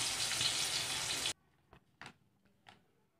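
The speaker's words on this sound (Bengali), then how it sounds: "তেল গরম হয়ে গেলে এর মধ্যে আমরা একে একে করলাগুলো ভেজে নেব" Stuffed bitter gourds fry in hot oil with a loud, hissing sizzle for about a second, then it cuts off to near silence broken by a few faint clicks and taps.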